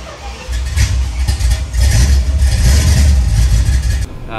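A 1969 Dodge Charger engine turns over and catches, then runs with a steady low rumble for several seconds before cutting off abruptly.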